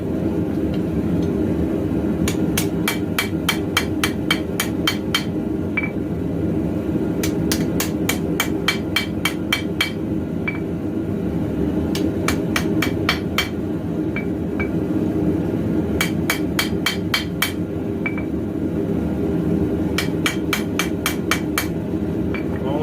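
A hammer rings against steel while forging and planishing a knife tang, with bursts of sharp, evenly spaced metallic strikes separated by short pauses, loud and close over a steady background hum.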